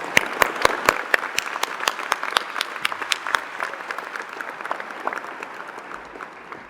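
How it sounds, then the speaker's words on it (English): A graduation ceremony audience claps for the Sheridan Ensemble musicians, starting with sharp, distinct nearby claps that thicken into a softer, steady patter of applause across the hall. "Could you please join in a round of applause for these wonderful musicians?"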